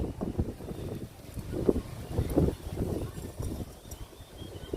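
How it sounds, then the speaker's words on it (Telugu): Gusty wind buffets the microphone in low, rumbling bursts that rise and fall throughout. "ఉదయం స్టార్ట్ అవుతుందండి ఈ గాలి"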